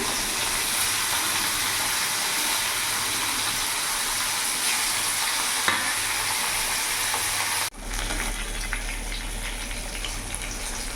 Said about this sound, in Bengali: এদিকে তেলও গরম হয়ে গেছে, মাছগুলো ছেড়ে দেবো।